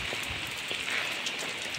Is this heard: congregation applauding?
no